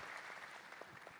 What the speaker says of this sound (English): yes, great applause